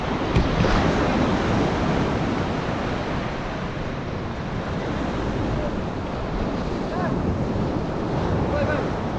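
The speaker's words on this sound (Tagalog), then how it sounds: "Malakas nga lang yung alon." Strong waves surge continuously onto a beach at Pulilio Island, a loud, dense wash of surf mixed with gusting wind buffeting the microphone.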